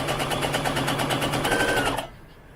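A sewing machine running fast in a close, steady buzzing stitch while backstitching to lock a seam in fabric, then stopping abruptly.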